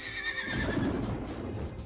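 A frightened horse neighs in a long, shrill whinny. Heavy wind-like noise and a low rumble sit beneath it, and the whole burst is loud and close.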